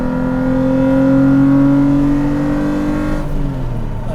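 Mk3 Toyota MR2 V6 track car engine held at steady high revs, then the pitch slides down as the throttle eases near the end, loud and close, no voices.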